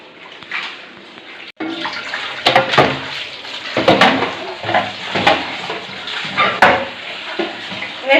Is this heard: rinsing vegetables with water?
yes